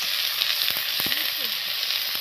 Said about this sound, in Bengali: এখানে মাংস রান্না হচ্ছে, আমার দাদা মাংস রান্না করছেন।